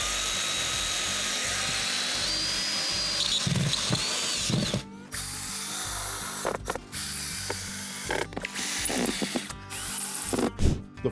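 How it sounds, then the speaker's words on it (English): A power drill drives screws into the edges of a vinyl flooring base, its motor whirring loudly and steadily in close, sustained bursts broken by short pauses and clicks. "We'll screw in a few screws at the edges."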